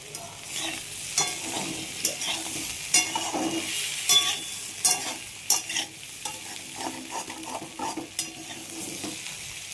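Peel-on potatoes fry in mustard oil with a steady close sizzle, broken by repeated scraping stirs of a spatula in the pan.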